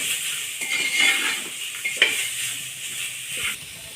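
Green chilli, salt, turmeric and vegetables sizzle in a pot for Swaminarayan khichdi as a spoon stirs and scrapes, with repeated metal clinks over a soft continuous fry and no talk.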